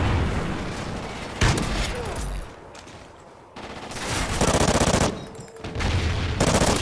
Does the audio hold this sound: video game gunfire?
yes